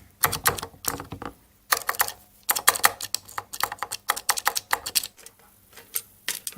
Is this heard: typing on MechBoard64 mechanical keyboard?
yes